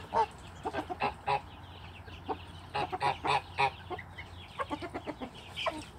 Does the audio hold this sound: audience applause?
no